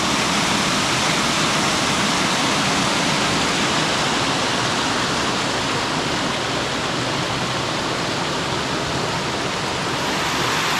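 Waterfall pouring over rocks into swirling pools, a loud, dense, unbroken rushing roar that stays steady and close for the whole stretch, with no voices.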